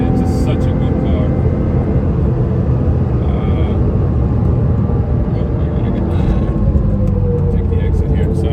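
A Porsche 997 or 996 GT3 drives along with a loud, constant engine drone and road roar filling the cabin, steady in pitch, with a voice talking over it.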